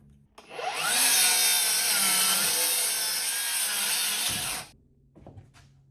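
A power saw rips through a wooden 2x6 stud milled from a hollow-spotted cant, a loud, close whine lasting about four seconds between quiet moments, with a few light knocks as the cut finishes.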